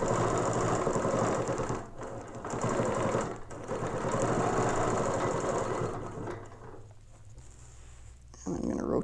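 A sewing machine stitches a quilting line using a ruler foot, running in a fast, continuous mechanical whir with brief pauses before it stops near the end, while a voice speaks at times.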